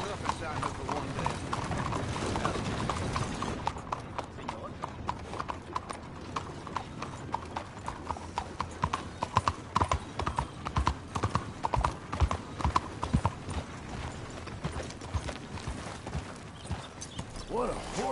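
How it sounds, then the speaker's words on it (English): Steady clip-clop of horse hooves in the video game Red Dead Redemption 2, a brisk rhythmic trot that carries on throughout, with voices talking and occasional mechanical clicks underneath. "What a horse you are."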